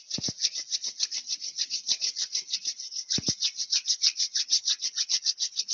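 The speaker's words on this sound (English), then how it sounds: "rubbing the palms together, inviting heat" Palms rubbing together briskly during a yoga practice, a close, rhythmic swishing with dozens of quick strokes and a couple of brief pauses.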